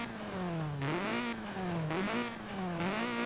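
A Ford Fiesta ST in Forza Horizon 4 revs its engine with turbo whine, pitch climbing and dropping in three steady surges as it accelerates, loud and close with no exhaust pops.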